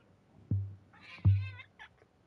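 A pet cat gives a couple of short, faint meows indoors, each preceded by a soft low bump, with quiet room tone between them.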